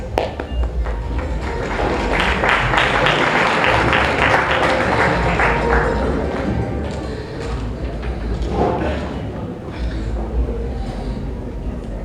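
Sustained applause from a Diwali gala audience in New York, a dense steady wash of clapping lasting several seconds at fairly even loudness.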